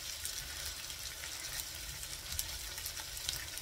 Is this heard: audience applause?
no